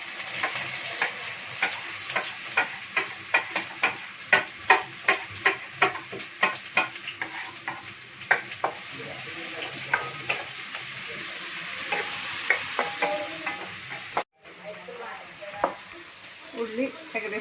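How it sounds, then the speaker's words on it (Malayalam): Shallots dropped into hot oil for a chicken parts curry, sizzling steadily while a spoon clicks against the pan in quick regular strokes, close and loud, with a brief pause near the end. "അപ്പോൾ ചെറുള്ളി നമുക്ക് അതിലേക്ക് ഇടാം."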